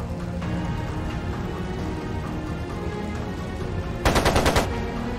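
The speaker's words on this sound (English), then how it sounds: "It sounded like a machine gun." Machine gun fire in a Trails of Cold Steel 2 video game cutscene comes as a short, loud rapid burst near the end, over a dense, sustained backdrop of score and ambience.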